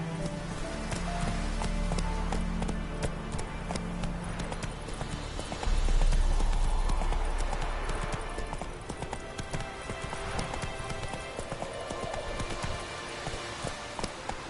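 Roach the horse galloping in The Witcher 3, rapid rhythmic hoofbeats thudding close and steady over a rain-like patter, with a heavier low rumble swelling midway and no voices.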